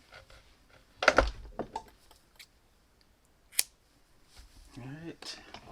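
Scissors cut crochet yarn after work on a reversible Tunisian crochet scarf, giving a couple of quiet, brief snips spaced apart, with a soft voice speaking near the end.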